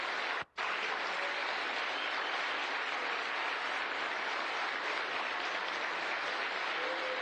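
Applause and cheering welcome the Artemis II crew at their splashdown recovery, a steady wash of clapping over about seven seconds after a brief dropout at the start.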